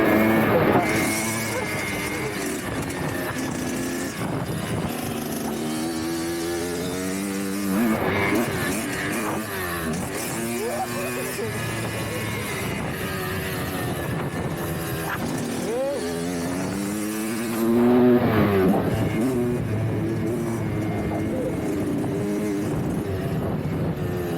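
Dirt bike ridden at an indoor action-sports gym: repeated throttle blips and revving swells rise and fall over a continuous engine buzz, with occasional voices in the background.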